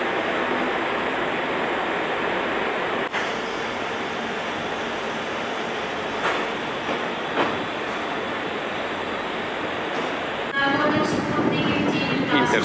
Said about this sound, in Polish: Co chwilę wjeżdża jakiś pociąg i odjeżdża